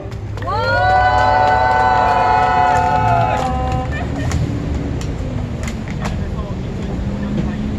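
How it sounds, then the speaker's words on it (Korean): An outdoor candlelight rally crowd in Gwangju claps and cheers, a broad roar that swells quickly and stays loud, with a bright whistle or horn tone early on and a few sharp shouts standing out later. "큰 박수 부탁드립니다"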